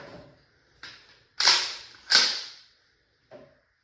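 An Umarex T4e HDX 68 air pistol, the 7.5-joule version running on HPA or CO2, fires two sharp, loud cracks in quick succession, preceded and followed by lighter mechanical clicks at close range.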